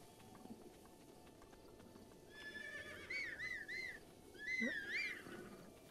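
A horse in Zelda: Breath of the Wild gives two faint, whinnying neighs with rising and falling pitch, heard against a soft, steady outdoor game ambience and light hoof noise.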